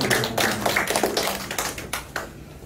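A church congregation at a Sunday worship service claps in welcome, with a quick, crisp patter of many hands that thins out and fades near the end. No one speaks over it.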